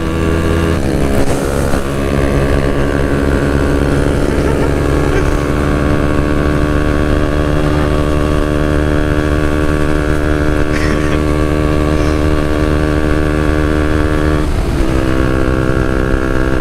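A KTM Duke 125cc moped engine runs steadily and close throughout, with a continuous motor drone and harmonic whine while riding, a few brief shifts in pitch along the way.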